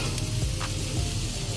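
Hibachi food sizzling on an outdoor griddle in the rain, a loud continuous hiss and crackle close by with faint stirring, and no voices.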